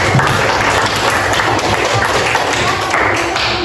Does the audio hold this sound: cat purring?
no